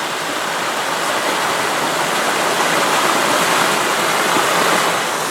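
Steady rushing of Rock Creek flowing in California's Sierra Nevada, a continuous broadband wash with no pauses, fairly loud and close.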